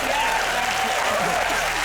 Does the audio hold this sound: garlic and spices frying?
no